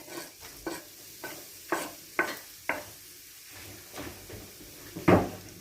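Sliced onions go into a few tablespoons of hot cooking oil for spring roll filling, with a quiet sizzle broken by a series of sharp spatula scrapes and taps against the pan.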